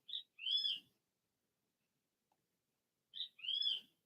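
Two separate bird calls from brown birds with big black beaks and yellow chests in trees outdoors, each a short high note followed by a longer slurred whistle, clear and fairly close with silence between.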